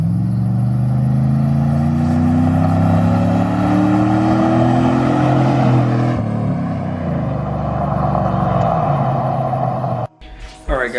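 A 2011 Chevrolet Silverado fitted with a Stainless Works cat-back exhaust accelerates past in a loud flyby, its engine note climbing then fading as it moves away, followed by a short abrupt break at the end.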